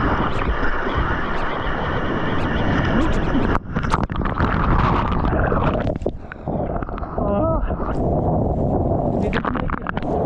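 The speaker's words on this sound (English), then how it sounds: "Windy day," Strong wind and powerful ocean waves rush in a loud, continuous roar while surfing on a windy day, with water churning and brief splashes.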